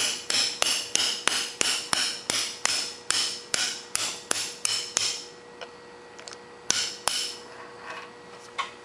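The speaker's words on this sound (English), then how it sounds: "You see, you just tap it on through." A hammer taps a metal ring out of a clutch roller held in a vise, a rapid series of about fifteen sharp, evenly spaced metallic strikes, then a few sparser hits with ringing tails.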